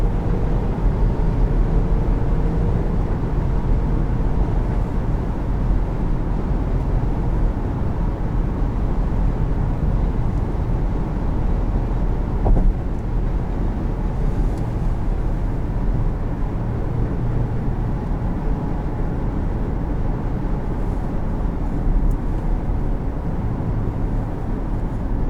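A 2019 Jeep Grand Cherokee with a Pentastar V6 drones steadily at cruising speed from inside the cabin, a continuous low engine and road hum with no voices.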